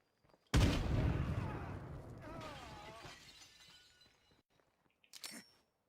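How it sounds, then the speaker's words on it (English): A frag grenade explodes in State of Decay 2 with a loud, close blast that rumbles and rings as it decays over several seconds. A brief clatter follows near the end. "Oh, I meant to throw a frag. Fire in the hole!"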